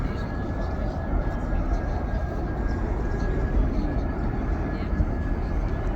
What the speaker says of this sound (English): Main gear touchdown, nose gear touchdown